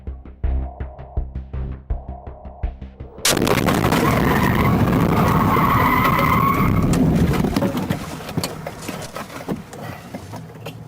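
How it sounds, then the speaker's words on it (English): Police car crashing after skidding tires: a quieter rhythmic engine passage, then an abrupt loud impact and sustained screeching, scraping skid that holds for several seconds before fading into rumbling noise. "This footage appears when an officer is playing on his phone and ends up in a car crash"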